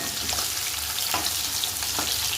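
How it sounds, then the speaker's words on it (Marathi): Onion fries in hot oil with a continuous close sizzle and a few soft stirring scrapes over a short stretch, with no speech. "आता आपल्याला थोडासा लाल होईपर्यंत कांदा फ्राय करून घ्यायचा आहे तेलामध्ये"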